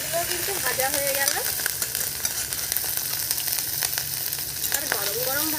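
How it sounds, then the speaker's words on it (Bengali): A spiced fish fry keeps sizzling hard in hot oil in a pan, a loud continuous crackle with faint stirring scrapes, and a voice sounds briefly in the background. "এই মাছগুলো কিন্তু ভাজা হয়ে গেল"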